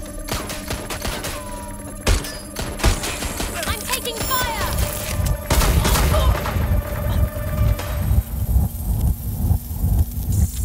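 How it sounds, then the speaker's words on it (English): Gunfire in Watch Dogs Legion Bloodline, played as Aiden Pearce on Xbox Series X. Rapid, dense volleys of shots run continuously and loudly over the whole stretch, with a steady game soundtrack droning underneath. "I'm taking fire!"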